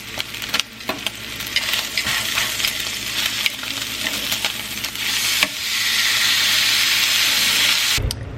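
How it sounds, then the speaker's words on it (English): Steak searing in a pan turned up high, a steady broadband sizzle that swells louder and denser in the second half, with small clinks and stirring noises scattered over it and no talk. "I want this steak to kind of burn a little bit, so I'm gonna turn that bad boy up."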